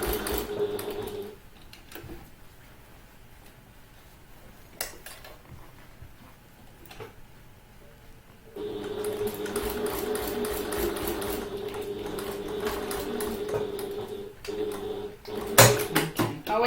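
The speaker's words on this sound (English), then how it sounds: "I always take a little bit longer top stitching" Sewing machine top stitching a handbag, a quiet start with scattered clicks, then a steady run of rapid stitching for several seconds, close and alone, ending with a few sharp knocks.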